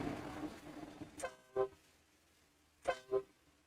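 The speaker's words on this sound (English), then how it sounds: "it turns on the train horn" Train horn on a custom Ford F-650 truck blasts in two pairs of short, loud honks, the first pair at the middle and the second near the end, over quiet background.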